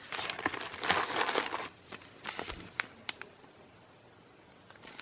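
Old newspaper is handled and crumpled close up, a burst of loud crinkling and rustling that thins to a few scattered crackles and near silence.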